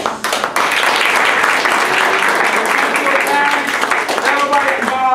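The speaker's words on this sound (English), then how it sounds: "Well, you guys deserve a lot of applause." A banquet crowd at a boys' high school soccer awards dinner breaks into loud, sustained clapping that fills the room, with a few faint voices underneath.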